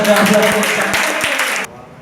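Applause from a live audience at a public speaking event, a steady wash of many hands clapping that carries on for most of the moment, then cuts off abruptly near the end.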